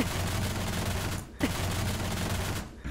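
Sustained automatic gunfire in Rainbow Six Siege tears a shooting hole through a wall, a dense loud rattle that breaks off briefly before resuming.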